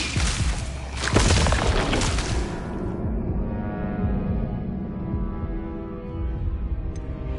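A Bombarda spell blast from the wizarding game Hogwarts Legacy hits with a loud booming burst, then a lingering low rumble that fades out.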